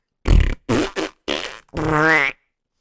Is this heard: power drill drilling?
no